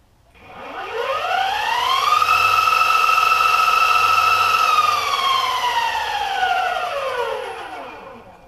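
An ANCHEER 37-inch dual-motor all-terrain electric skateboard on its high speed setting gives off a loud electric motor whine. The tone climbs in pitch, holds steady for several seconds, then winds back down as it slows. No one speaks.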